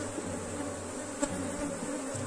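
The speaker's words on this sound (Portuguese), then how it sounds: "tem muitas campeiras na caixa" Honeybees drone steadily around an opened beehive box, a dense, continuous buzz close by with a few louder passes and no talking.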